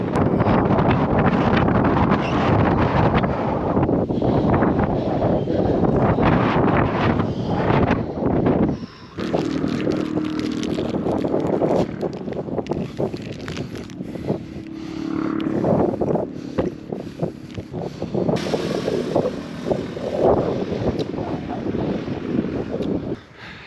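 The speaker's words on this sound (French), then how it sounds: "le vent est frais" Wind buffeting a microphone on a steep mountain road in the Andes during a solo bike climb, heavy gusty rumble that drops out briefly and returns in uneven surges, loud and close.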